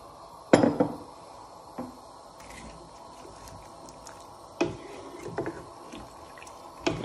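Peppers and onions for chicken jalfrezi tipped into a pan, heard as a few sharp clattering knocks and clinks spaced apart over a soft background hiss.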